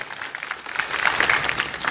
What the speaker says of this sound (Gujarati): એવા અમૃતલાલ માટે પણ જોરદાર તાળીઓ થઈ જાય